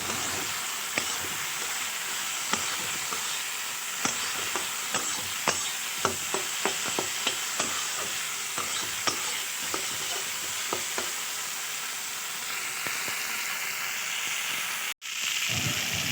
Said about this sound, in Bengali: এবার ভেজে রাখা মাছগুলো দিয়ে বেশ কিছুক্ষণ কষিয়ে নেব